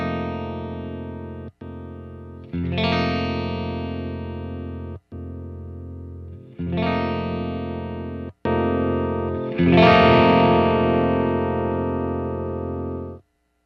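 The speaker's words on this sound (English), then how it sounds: "let's hear what it sounds like when I choose the different bright switches" Electric guitar through a Headfirst Alta amp, strummed chords ringing out in several loud, sustained bursts separated by brief silences as different bright switch settings are tried; distorted, effects-laden tone played alone with no talking.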